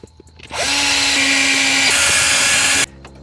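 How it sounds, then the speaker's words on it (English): Power drill with a 1/8 inch bit biting into metal inside a 2002 Chevy Corvette, a single loud, continuous whine lasting a little over two seconds before stopping abruptly. "we want to use an 1/8 inch drill bit, and we want to drill some new holes inside this metal"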